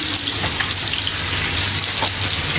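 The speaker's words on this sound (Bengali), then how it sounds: "আর আমি এখন মশলা বাটা পানিটা দিয়ে দিব" Spice paste water poured into a hot pan of dried fish (shutki) bhuna, giving a steady continuous watery gush and sizzle that stays loud throughout with no talking.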